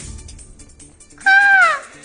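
A loud, drawn-out wavering call imitated by a human voice, rising then falling, following a stretch of faint background noise.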